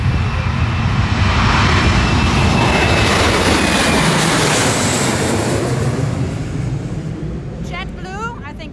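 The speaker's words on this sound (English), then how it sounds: "I think we have another flight taking off here." A large airliner takes off at Maho Beach, its engines roaring loud and sustained throughout, slowly easing off as it climbs away, with people talking faintly beneath the noise.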